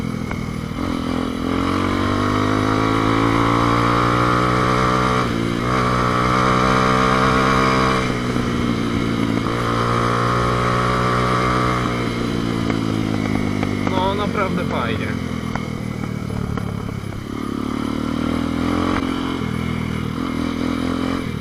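Bashan 200 motorcycle ridden on the road toward a gravel pit, its engine droning loud and steady close up, pitch rising and dipping as it accelerates and shifts, with brief clattering toward the end.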